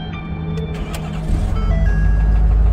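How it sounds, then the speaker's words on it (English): A Ford F350 pickup truck engine cranks and catches, then settles into a low, steady idle rumble that grows louder and fuller toward the end. "Fire it up, she runs smooth."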